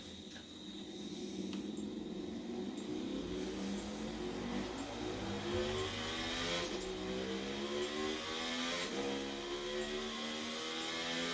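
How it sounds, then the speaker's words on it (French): A KTM motorcycle engine in the racing video game The Crew revs and climbs through rising, droning tones, continuous and steady in level, with a brief shift-like break partway through. "Donc voilà la moto. Vraiment chouette. Un petit numéro 9. Une KTM."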